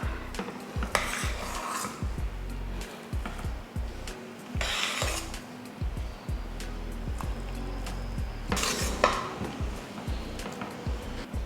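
Cooked dal and rice are stirred into a pot with a metal spoon, giving repeated scraping, clinking knocks against the pot, some louder bursts, and a soft sizzle underneath.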